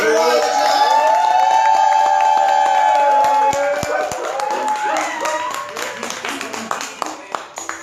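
A club crowd claps and cheers as a performer walks on stage, the applause loud and steady under music with sustained tones, then breaking into sharper scattered claps near the end.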